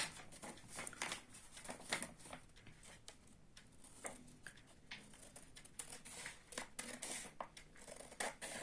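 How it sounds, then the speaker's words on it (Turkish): Scissors cutting folded paper into a diamond shape for an origami moon in a school visual arts class: faint, irregular snips and crisp paper rustles at close range, with no voices. "Şimdi bu şekli ben makasla keserek çıkartacağım."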